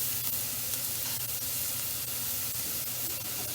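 Food sizzling and browning in a very hot pan on high heat, a steady dense hiss with faint crackles throughout and no talking.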